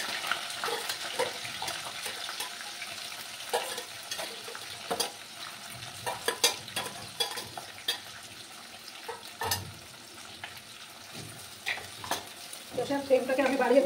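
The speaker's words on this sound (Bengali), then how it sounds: "পেঁয়াজটাকে লাল লাল করে একটু ভেজে নেব" Onions frying in oil on a gas flame for a home chicken kosha, stirred with a utensil scraping and clattering in the pan; a steady close sizzle runs throughout with irregular louder stirring knocks and bursts.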